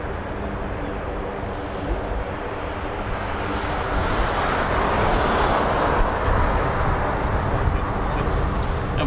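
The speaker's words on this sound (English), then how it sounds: "Now I can hear an MC-130J Commando too." Broad, steady drone of an MC-130J Commando turboprop aircraft flying at RAF Mildenhall, heard from a distance with some wind noise, growing slightly louder through the second half.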